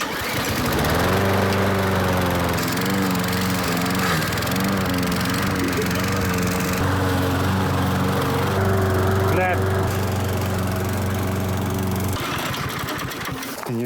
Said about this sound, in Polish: To jest stara kosiarka, którą tutaj znalazłem i ona, jak sami widzicie, nie chce zbyt dobrze działać.